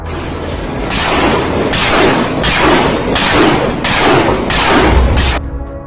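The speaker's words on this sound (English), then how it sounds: "the tank fires off several rounds at the trench" A tank fires several rounds at a trench in eastern Ukraine: about six heavy booming blasts spaced roughly a second apart, loud and close, each with a rumbling tail, then a quieter fade.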